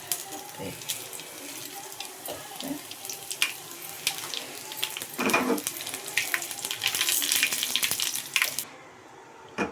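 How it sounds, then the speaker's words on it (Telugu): Green chillies fry in a hot pan in a home kitchen, giving a steady crackling sizzle with bursts of spitting, close and fairly loud, with a watery hiss swelling toward the end. "చూడండి మంచిగా అయితే వేగుతుంది."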